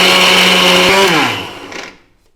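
A kitchen mixer grinder whirs loudly as it grinds roasted chana dal and peanuts for chutney, a steady high motor whine that drops in pitch and winds down to a stop.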